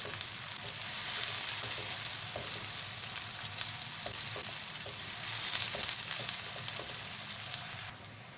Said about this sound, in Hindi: अब इसमें डालेंगे हम लोग प्याज।